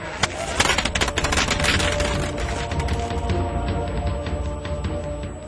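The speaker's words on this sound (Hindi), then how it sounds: "बाबा यहाँ लड़ी पटाखा छोड़ रहे हैं" A string of firecrackers goes off in a rapid crackling burst, loud and close at first, then thinning into scattered pops over a lingering hiss.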